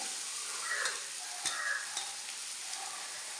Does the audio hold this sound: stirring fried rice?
yes